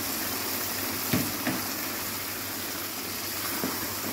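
Mutton koftas dropped into fried masala in hot oil give a steady, even sizzle, with a few soft plops and splutters as the meatballs go in.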